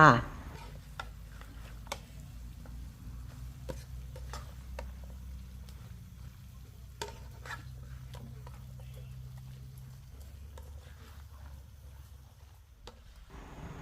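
Coconut shoots are stir-fried in a pan, with a spatula scraping and tapping close by in scattered clicks over a low, steady sizzle.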